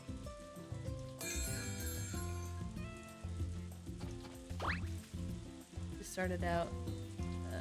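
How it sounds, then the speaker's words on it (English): Rain falls in a farming video game as a soft, continuous hiss, quiet beneath game music and sound effects while a person talks. "Oh, and it's raining."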